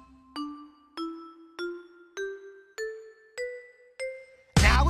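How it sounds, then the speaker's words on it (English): A xylophone in a children's hip-hop song plays eight clear ringing notes that climb step by step in an even rhythm, each decaying before the next, followed by a loud burst of music at the end. "Xylophone, let me hear you one time."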